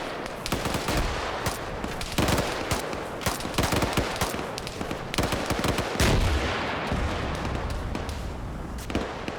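Rapid bursts of video game gunfire with a distant armored vehicle and RPG fire in the mix, loud and continuous throughout with sharp repeated cracks and no clear talk.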